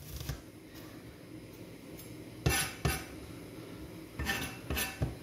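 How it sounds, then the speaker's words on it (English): A knife slices vegetables into rings on a cutting board in a kitchen. Sharp, clinking taps land in small irregular clusters over a faint background hiss. "I'm just gonna slice it into ringlets, again, using that method of creating a little guard and rocking"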